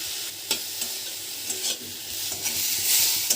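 Small chopped eggplant pieces fry in hot mustard oil, a steady loud sizzle with occasional sharp spatters and light scraping as they are stirred in the pan, no voices present.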